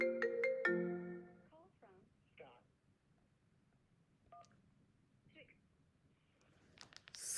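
A phone line dials and rings for a caller to a live college football call-in radio show, with a short burst of tones followed by faint gaps and quiet voices, ending in another flurry of tones.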